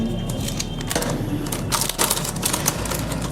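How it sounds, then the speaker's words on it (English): Blade slicing open the cardboard box of an MJ Model M3 GTR E46 model car, a close run of sharp scratchy cuts and tearing crackles in quick irregular bursts. "So let's cut this open."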